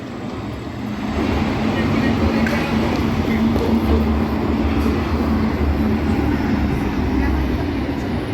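A tram passing along Erzsébet körút in Budapest, a loud sustained rumble with a low steady hum that swells after the first second and holds until the end over city street noise.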